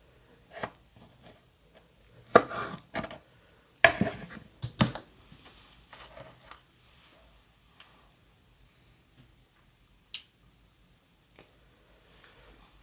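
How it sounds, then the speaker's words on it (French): Knife slicing a small piece of fruit for a Pink Lady cocktail, a few sparse taps and cuts against a board separated by long quiet gaps, close but soft. "Et je vais couper une petite tranche."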